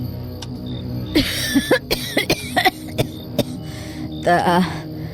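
An elderly woman coughs several times in a narrated Bengali ghost audio story, a short cluster of rough, close coughs with throat clearing, mixed with voice acting.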